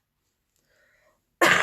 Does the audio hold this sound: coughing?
yes